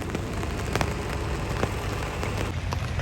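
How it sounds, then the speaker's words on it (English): Heavy rain pours down at an outdoor overland expo, a dense, steady hiss of drops drumming on surfaces with occasional louder splats, close and continuous. "maybe by then the downpour will have stopped"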